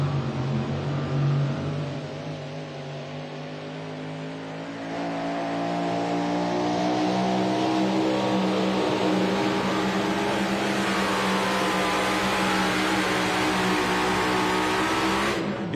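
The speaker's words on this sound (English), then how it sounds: "Strong run there for the Walk the Line mini rod from Adam Kester, Waitsville, Indiana." A mini rod pulling tractor makes a loud, sustained full-throttle run at a truck and tractor pull at 300 Raceway in Farley, Iowa, its engine roaring steadily close by with a slight dip midway before building again.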